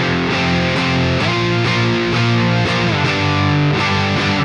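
An electric guitar plugged straight into an audio interface and run through a Marshall amp simulator plugin, distorted chords strummed in a steady rhythm, loud and close with nothing else in the mix.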